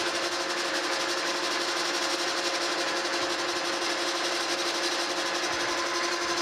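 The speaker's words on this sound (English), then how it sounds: "Fire up the lathe now." A metal lathe powered through a phase converter runs steadily with a continuous mechanical whine and hum, alone and unchanging throughout.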